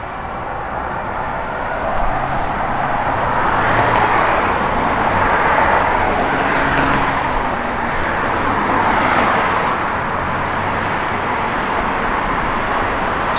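A 1970 Plymouth Duster's engine runs steadily in a broad, even rumble for over ten seconds, swelling slightly in the middle, fairly loud and close with no voices over it.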